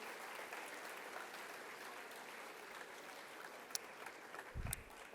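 An audience at a school Hispanic Heritage program applauds mariachi musicians and folklorico dancers, a steady wash of clapping from a large crowd heard from a distance throughout, with a low bump near the end.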